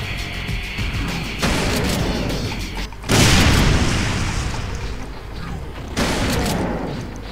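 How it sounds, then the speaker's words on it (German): A fire extinguisher bursts after being shot in the Brutal Doom video game: loud booming blasts with a hiss-like burst arrive in stacked waves. The heaviest hits at about three seconds, and another strong blast comes near six seconds. "Feuerlöscher, der so extrem explodiert"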